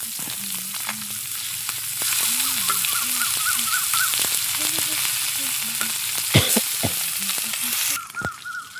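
Fish frying in hot oil, a loud steady sizzle and crackle running throughout with sharp pops and a brief louder burst near the end, while a voice hums or sings melodically over it.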